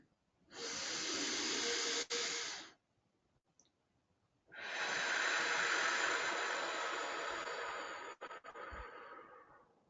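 Slow, deep breaths during a guided cardiac coherence relaxation exercise: two long, airy inhalations of a few seconds each, separated by a pause, close and clear with no talking over them.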